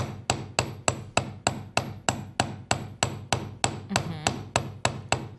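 Hammer forging an Argentium silver earring: steady, evenly spaced metallic strikes, about three per second, close and sharp, each blow ringing briefly before the next, with no talk.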